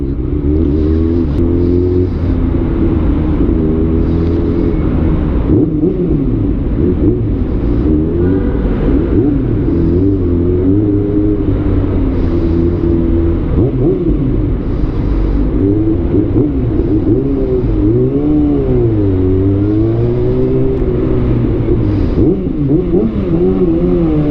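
Road traffic passes during a ride in hot midday sun, a continuous low engine rumble with swelling and fading vehicle drone, steady and loud throughout with no talking.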